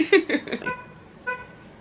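A car horn chirps as a vehicle is locked, a few short toots close by near the start, then a fainter beep about a second later.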